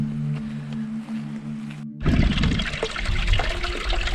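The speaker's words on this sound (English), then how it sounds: "we're filling up again at this stream" Mountain stream water rushing loudly at close range while bottles are filled, with a broadband gurgling roar that starts abruptly and runs steadily without a break.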